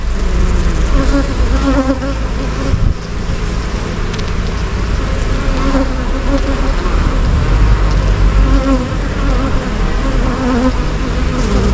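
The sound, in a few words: honeybees buzzing at hive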